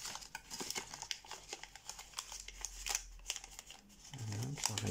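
Paper crinkles and crackles in quick, close bursts as a sheet is creased, opened and refolded into an origami bald eagle, ending with a slower flattening rustle.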